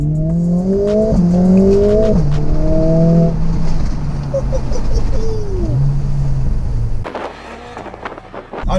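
A Mercedes-AMG A45 S accelerates hard, its engine note climbing loud and close through several quick upshifts before easing off, then a rougher, choppier burst near the end.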